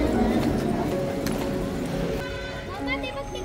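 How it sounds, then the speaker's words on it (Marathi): Horses' hooves clip-clop on the ground at a ticketed tourist stop along a Mumbai to Jagannath Puri road trip, a few sharp knocks partly buried under nearby talk and busy background noise. "तेव्हा घोडे ठेवलेत ना इकडे"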